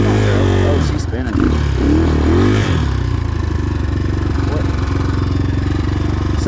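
A Trailmaster TM33 dirt bike on a hill climb, its engine droning loudly and steadily as the rear wheel spins, close by, with a brief voice near the start.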